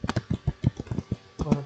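Typing on a computer keyboard produces a quick, uneven run of close, light key taps under a voice.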